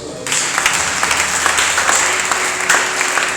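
A church congregation applauds loudly during a prophet's sermon, a dense, sustained burst of many hands clapping close and filling the room, with a few voices mixed in.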